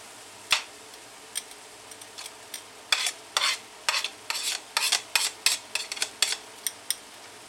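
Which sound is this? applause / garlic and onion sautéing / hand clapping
garlic and onion sautéing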